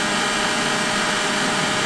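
A laser-mapping robot vacuum cleaner, switched on by Alexa voice command, runs with a steady, dense whir of motor and suction noise, close and continuous throughout.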